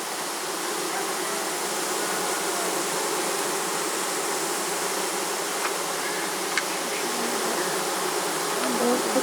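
A dense, steady buzzing of many honey bees indoors in a bedroom fills the air continuously, close and loud, with no talking.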